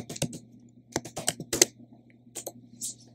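A short burst of typing on a computer keyboard, several quick clustered keystrokes with brief pauses between, close and crisp in a quiet room.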